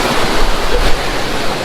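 Rushing water near the Kedarnath glacier roars steadily, loud and close, a dense continuous torrent with no voices over it.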